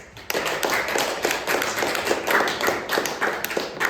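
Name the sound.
audience applause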